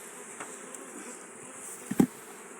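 Honey bees buzzing steadily during a hive transfer from nucleus boxes into deep hives outdoors in Jamaica, a soft continuous drone with a brief knock near the end.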